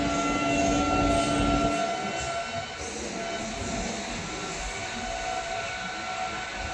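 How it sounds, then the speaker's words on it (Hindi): Delhi–Moradabad passenger train rolling past with a steady, broad rumble of wheels and carriages, loud and continuous throughout without a break. "पैसेंजर ट्रेन है दिल्ली मुरादाबाद।"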